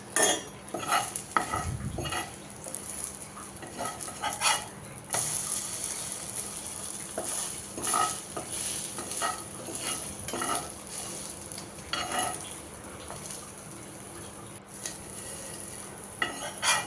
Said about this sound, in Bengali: তো ফ্রাই প্যানে হালকা তেল দিয়ে এখন আমি ব্রেডগুলো ভাজবো।